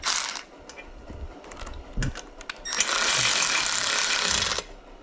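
Milwaukee cordless electric ratchet driving a fastener in short bursts, with a sustained buzzing whir in the second half, close up, with no speech.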